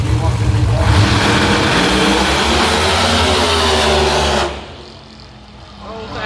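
A pro mod drag race car launches at a drag strip, a loud, dense roar holding steady for about four seconds before cutting off abruptly and fading into quieter crowd and track ambience.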